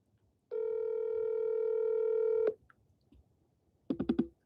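Telephone call-back after an accidental hang-up: a steady tone holds for about two seconds, then after a pause a quick burst of four or five keypad dialing beeps, clear and close with no talk.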